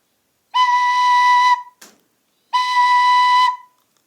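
Two steady, moderately blown whistle-like recorder notes with hole 0 and the first hole covered, each held about a second, separated by a short breathy pause with a faint puff between them.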